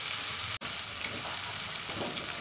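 Beef liver frying in a pan for bhuna, a soft continuous sizzle and crackle at low volume, with one brief dropout partway through and no talking.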